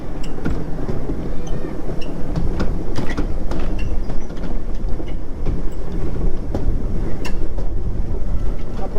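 A children's toy train at an amusement park in Bahrain runs with a constant loud rumble and scattered clicking rattles throughout, with a voice faintly underneath.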